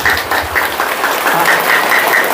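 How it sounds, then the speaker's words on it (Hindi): An audience claps loudly for themselves at a Brahma Kumaris meditation session, steady rapid applause filling the whole moment without talk. "ताली बजाओ अपने लिए पहले, जोर से, जोर से"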